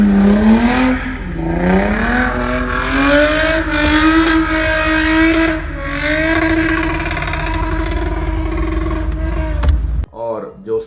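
A car engine revs hard and steadily, its pitch climbing and holding in a loud sustained drone for about ten seconds before cutting off abruptly.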